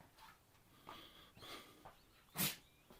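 A single sharp sneeze bursts out near the end, preceded by quiet breathing and faint movement noises in a knife-sharpening session.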